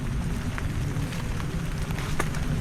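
Steady rain patters on a surface, a dense wash of drops with a few sharper splashes standing out.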